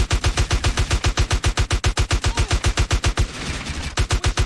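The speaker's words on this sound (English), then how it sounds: "They're still shooting you!" Rapid automatic gunfire blasts steadily and loudly in Final Fantasy XVI, a dense unbroken string of close shots with a brief rougher patch midway.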